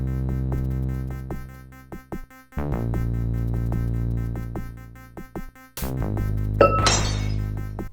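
Glass smashing in the DOS game Blue Force: one sharp, bright shatter near the end, over a looping synthesized music track with plucky notes.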